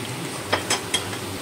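Chopped onion and capsicum frying in a pan, with a steady soft sizzle and a few quick scraping stirs of a spatula close by, no voices.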